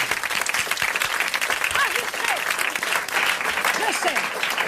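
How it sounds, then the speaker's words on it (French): Studio audience at a French TV show applauding a correspondent, sustained even clapping from start to finish with a voice talking over it. "je crois que notre correspondant a bien mérité que vous l'applaudissiez"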